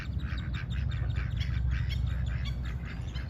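Fish-hunting birds squawk and chirp repeatedly over a low rumbling background in a park in Mexico, a busy flock calling without pause.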